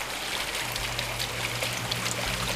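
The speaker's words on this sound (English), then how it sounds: "has something to break up the water as it falls, so it doesn't splash all over" Water falls and splashes continuously in a homemade garden fountain, a steady close trickling wash with small splashes and no talk.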